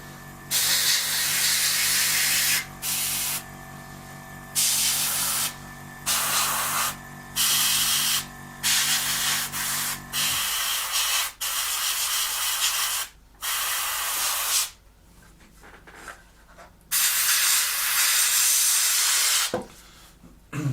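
An airbrush sprays white paint onto an Airfix 1/48 Sea Vixen model kit, a steady close hiss in repeated bursts of a few seconds each, separated by short pauses.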